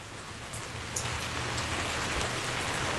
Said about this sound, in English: Oh, the pitter-patter of the rain.